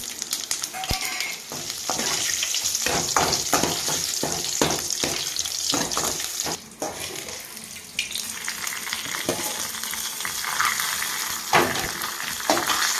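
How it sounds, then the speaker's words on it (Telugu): A tempering for raw tamarind soup sizzles in hot oil, with garlic and green chillies among the ingredients, a dense continuous frying hiss broken by clinks and scraping of a utensil, close and fairly loud. "పచ్చిపులుసు తాలింపు వేసామండి"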